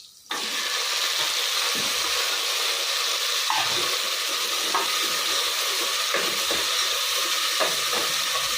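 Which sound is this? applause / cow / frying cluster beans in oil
frying cluster beans in oil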